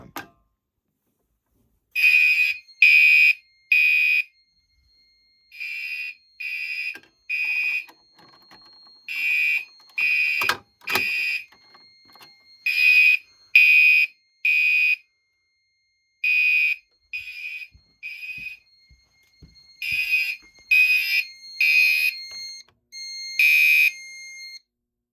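A loud fire alarm blares in repeated bursts of piercing electronic tones, pulsing in an irregular rhythm with short silent gaps, nearby and alone: a Gentex Commander system test after a pull station is pulled.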